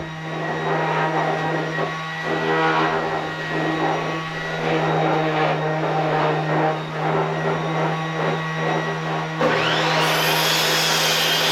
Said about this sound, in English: sanding her triangles